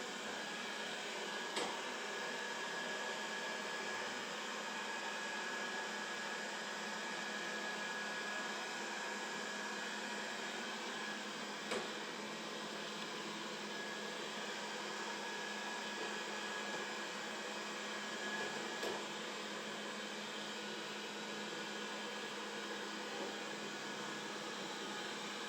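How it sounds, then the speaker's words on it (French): A Dreame D10s Pro Plus robot vacuum runs with its rotating brush slowed, giving a steady, even motor whir throughout, with a few faint clicks and no talking. "Il contourne parfaitement le câble, toujours avec la brosse rotative au ralenti."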